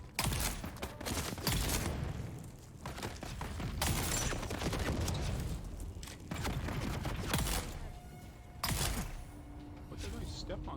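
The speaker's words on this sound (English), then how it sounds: "What did I step on that blew up?" Sharp blasts and crackling bursts from an explosion set off underfoot in the video game Dune: Awakening, layered over dense, loud game noise and gunfire-like clatter throughout.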